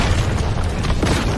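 An animated corpse bomb explodes in a fantasy battle, a loud, continuous, rumbling blast filling the whole moment with no voices.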